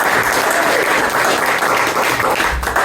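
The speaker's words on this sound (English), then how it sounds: "give yourselves a round of applause for that" A room full of people applauding themselves after performing at a Jim Luning event, steady, full clapping throughout, loud and close, with faint crowd murmur mixed in.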